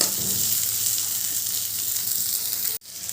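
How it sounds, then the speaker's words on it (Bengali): Chopped onion and garlic fry in a hot pan for a small-fish dish, giving a steady, loud sizzle with a faint stir near the start and a brief dropout near the end. "এবার পেঁয়াজ রসুনগুলো একটু ভালো করে ভেজে নেব"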